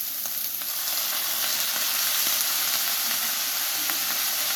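Hakka noodles with soy sauce and Schezwan sauce stir-frying in a pan, giving a steady, close, loud sizzle with scattered crackles and the scrape of stirring throughout, with no talking.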